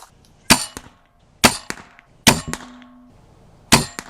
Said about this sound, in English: So let's shoot another round, see what they do.